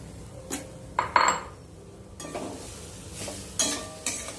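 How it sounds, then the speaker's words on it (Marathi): A spatula scrapes and stirs grated fresh coconut as it roasts in a kadhai for coconut barfi, giving a series of close, intermittent metallic scrapes and clinks against a soft background hiss, with no talking. "हे खोबरं आपल्याला 2 मिनिटांसाठी परतून घ्यायचं आहे"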